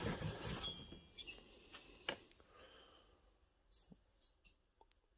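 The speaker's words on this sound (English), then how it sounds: "I'm going to keep going at this with a new piece of Scotch-Brite" A Scotch-Brite pad scrubs a chainsaw cylinder wall, a loud burst of rubbing up front, then sparse scratchy strokes and small clicks close by, quieter toward the end.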